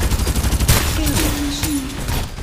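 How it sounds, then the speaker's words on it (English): Rapid gunfire bursts from a Farlight 84 video game battle, loud and dense, with a whistling tone sweeping across the middle and booming low-end rumble throughout. "Time for some artillery."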